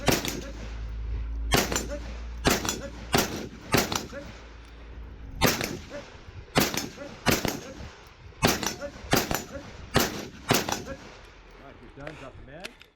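Gunshots at a multi-gun match stage, loud sharp cracks fired in quick clusters with short gaps between strings, ringing out across an outdoor range.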